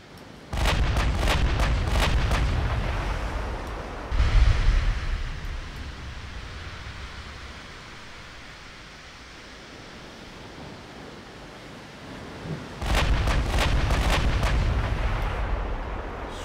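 Heavy naval gunfire from battleships in the Ultimate Admiral Dreadnoughts game, a Yamato versus Iowa engagement: booming salvos open the clip, fade into a low rumbling lull, then another thunderous volley erupts near the end.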